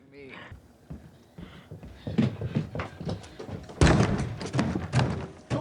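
Heavy thuds against a closed door in a tense domestic scene, a run of loud irregular knocks and slams rising in intensity, with voices talking and shouting over them.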